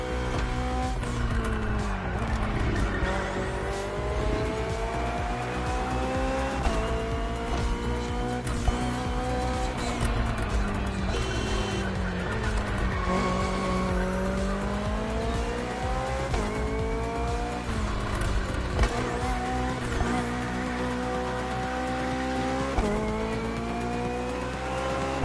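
A BMW hybrid V8 race car in the video game The Crew Motorfest races continuously, its engine rising and falling through repeated gear shifts, with occasional tire squeals, loud and close.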